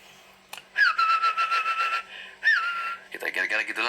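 A person whistles an imitation of a hoopoe bird call, a series of rapid pulsing warbling phrases with brief upward swoops, close and clear, separated by short gaps.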